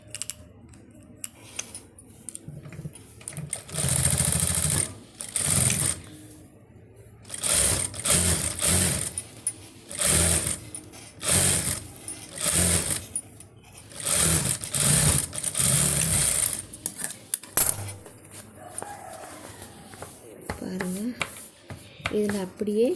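Sewing machine stitching a pleated sleeve with border trim: loud rapid whirring runs of stitching in several bursts separated by pauses, with a person speaking between and over the runs.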